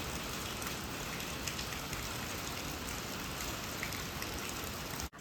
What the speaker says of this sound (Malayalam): പക്ഷേ ഇപ്പം ഇവിടെ നല്ല മഴയാണ് പുറത്ത്